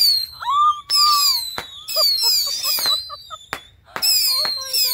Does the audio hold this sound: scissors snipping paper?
no